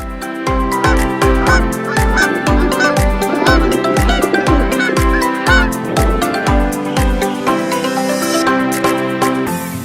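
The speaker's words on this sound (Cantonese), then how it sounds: "呢個呢就係傳聞中最大嘅雀仔啦" A large bird honks loudly and repeatedly in a steady, rhythmic series of harsh, nasal calls, close at hand, at Jeram, a fishing village.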